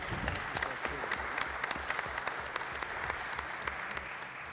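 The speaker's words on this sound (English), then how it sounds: "Can we get a round of applause for them" An evening audience at a family addiction event claps for the sponsors, a medical center and a YMCA, in steady, dense applause that sounds fairly distant and soft throughout.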